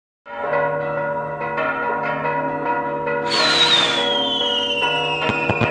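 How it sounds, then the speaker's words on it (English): A church bell rings loudly and repeatedly near the Great Pyramid of Cholula, with a sharp whistling streak of fireworks cutting in midway and a few crackling bangs toward the end. "despite the bell ringing"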